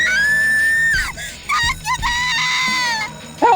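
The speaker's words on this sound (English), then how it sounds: "With one scream serving as a trigger" A long, loud, piercing scream from a person in panic, breaking off and resuming in strained wails over about three seconds, close and alone with no speech.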